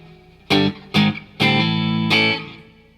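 Four bold guitar chords through a Wangs HD-15 amp with reverb ring out one after another, the last sustaining and trailing off into a short reverberant tail.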